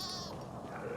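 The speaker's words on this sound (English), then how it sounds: "Gotta protect the goats." Goats bleating in the Dying Light 2 video game, a short, steady, fairly loud bleat filling the whole second with no talk over it.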